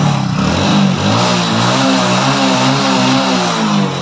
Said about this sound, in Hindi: तो सबसे पहले हम बाइक आपको स्टार्ट करके दिखाते हैं